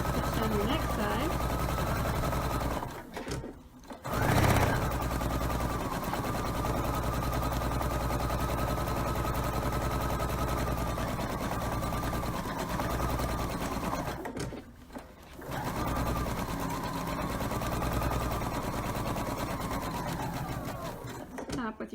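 A sewing machine stitching a memory pillow runs in long, steady, close-up bursts of rapid needle clatter, pausing briefly twice as the fabric is turned, while someone talks over it.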